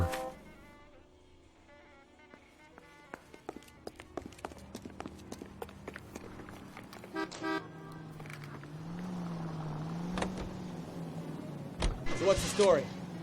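A car drives in the L.A. Noire video game, with a low engine hum through city traffic, scattered sharp taps and toots, and a brief burst of louder noise near the end. Voices can be heard faintly in the background.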